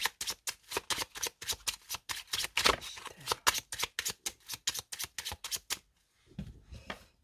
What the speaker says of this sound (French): On y va avec le jeu de 32. On va commencer par une coupe